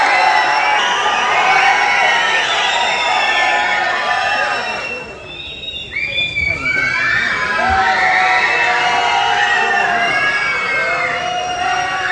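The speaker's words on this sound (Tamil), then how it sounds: "ஒரு மிகப்பெரிய கைத்தட்டலோட கோலிவுட் பிரின்ஸ் அண்ணன் சிவகார்த்திகேயன் அவர்களை அழைக்கிறோம்" An audience at the Garudan audio launch cheers and shouts loudly for a star's entrance, with whoops and excited yelling sustained throughout and a brief dip in the middle before the roar returns.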